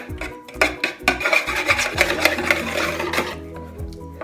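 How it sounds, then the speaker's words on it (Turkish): Three eggs are whisked in a mixing bowl for an orange revani, giving a busy run of rapid scraping, clinking strokes against the bowl that swell and ease over a few seconds, close and fairly loud, with no talk. "Öncelikle 3 adet yumurtamızı karıştırma kabımızın içerisine alıyoruz ve çırpmaya başlıyoruz."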